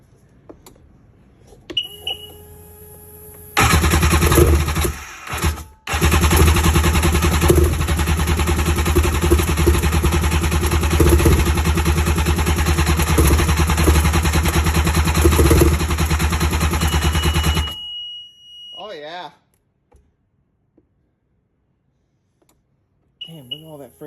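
A two-stroke jet ski engine cranks, catches and runs loud and rough for about fifteen seconds with a brief stumble near the start, then cuts off; a voice speaks around it.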